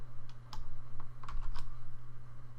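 Several quick keystrokes on a computer keyboard while entering JavaScript in a browser console, a short irregular burst of close clicks over a steady low hum.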